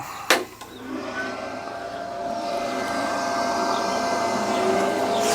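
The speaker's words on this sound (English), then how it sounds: "as soon as I pull the trigger, you hear the built-in compressor start up" A plasma cutter's built-in compressor kicks on with a sharp click, then settles into a steady, loud whirring drone like a vacuum that holds evenly to the end.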